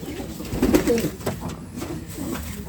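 A Beauty Homer pigeon coos in a short, soft burst close by, then quieter murmuring follows.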